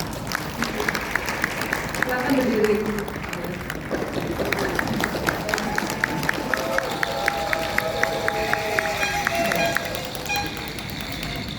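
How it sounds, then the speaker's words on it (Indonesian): Crowd applause and cheering for PDG Eva at a Rotary Club district gathering in Indonesia, with steady rhythmic clapping running through it while a voice speaks over the crowd. "Tepuk tangan untuk PDJ Eva"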